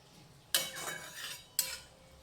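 Pabda fish curry with water being stirred in a pan, two separate scraping spoon strokes against the metal, close and fairly quiet, with a soft hiss between them.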